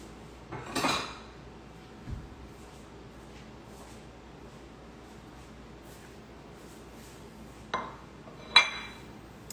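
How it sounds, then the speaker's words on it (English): Dishes and cutlery clink as vegetables are set on a plate in a quiet kitchen, with a few separate close knocks and clinks spread out over a near-silent background. "I'm going to put them on a plate"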